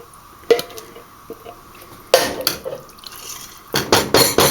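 Water is poured into an emptied soup can to rinse out leftover residue, giving bright metallic splashes and clinks in a few separate bursts, close and fairly loud, with quiet pauses between them.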